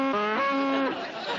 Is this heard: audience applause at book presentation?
no